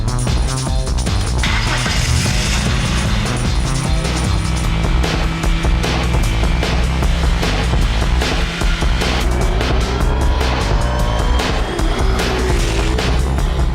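Cars, among some 400 headed for 20 tracks, driven hard for sound capture: a steady, loud engine roar runs throughout with revving gear changes and brief squeals, no talking.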